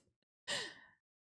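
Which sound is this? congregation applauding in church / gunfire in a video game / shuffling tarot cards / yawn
yawn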